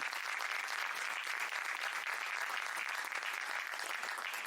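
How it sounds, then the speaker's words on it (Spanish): Steady, dense audience applause at a book-launch event for a magazine, filling the whole stretch at an even loudness with many hands clapping together. "Un aplauso a Lucía."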